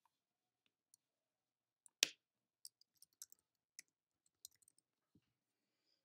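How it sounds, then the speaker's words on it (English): Mouse clicks while playing Hypixel Bridge: a sparse, irregular run of sharp, close clicks, one louder than the rest, separated by near silence. "You'll hear me clicking, that's just me playing bridge."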